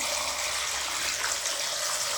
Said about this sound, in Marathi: आता मी याच्यामध्ये पाणी टाकते